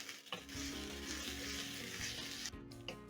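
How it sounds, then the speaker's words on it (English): Diced onions sauté in hot cooking oil for a vegetable masala, giving a steady, close sizzle with faint stirring that runs almost unbroken before briefly dropping away near the end; no one speaks. "Next, I'm going to be adding in 2 medium diced onions and saute until the onions have a very nice golden"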